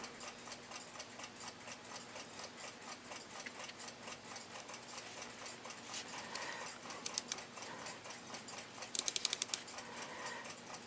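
A Westclox Baby Ben Deluxe alarm clock movement, freshly serviced and wound only a turn and a half, ticking faintly in a fast, even rhythm, with a few sharper metallic clicks near the end.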